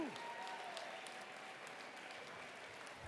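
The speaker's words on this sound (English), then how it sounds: "Let's give all 101 people a big round of applause." A gala audience claps in a sustained round of applause, dense and even throughout, with scattered individual claps standing out in a large room.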